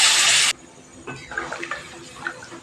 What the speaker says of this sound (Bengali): বেশ কিছুটা গরম জল করে রেখেছি, গরম জলটা দিয়ে দিচ্ছি।